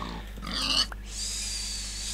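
A Minecraft pig gives a single short grunt, fairly close, over steady game background noise.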